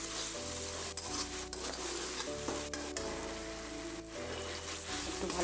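Ginger garlic paste sizzles and fries steadily in a hot pan, stirred continuously with a spatula that scrapes in repeated strokes, with soft background music underneath.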